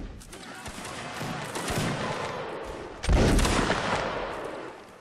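Musket volleys crackle in Mount and Blade: Napoleonic Wars, a dense, rolling fusillade of many shots, swelling into a louder close burst midway and then tailing off, with faint voices mixed in.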